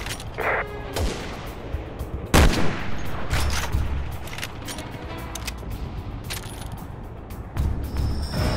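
Gunfire aimed at a tank in Resident Evil 6 comes as sharp, loud shots in uneven bursts, with heavier blasts among them and mechanical clatter between volleys.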